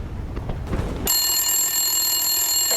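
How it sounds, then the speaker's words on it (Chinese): An old wartime military telephone rings unanswered in a command post, a single loud, sustained bell ring that starts abruptly after a brief noisy lead-in and continues to the end. "电话没人接"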